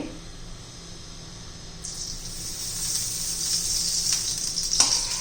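A hissing sizzle of ghee in a hot pan swells up partway through and keeps crackling steadily, with a small clatter near the end.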